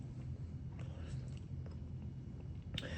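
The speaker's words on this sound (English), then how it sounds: "if you can hear the sound of me chewing and stuff" Someone chewing and biting a Toaster Strudel close to the mic, with soft, steady mouth noises and faint crunches that sit low and quiet throughout.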